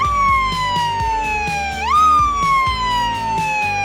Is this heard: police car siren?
yes